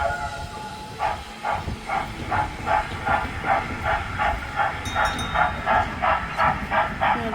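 A trackless tourist road train running on wheels at Eagle Square in Langkawi, with a steady mechanical rumble and a regular rhythmic clacking pulse, loud and close, with no talk over it.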